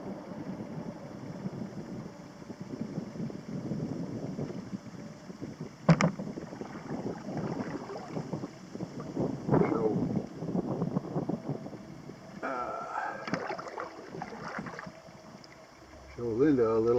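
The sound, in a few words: wind while paddling a canoe on a lake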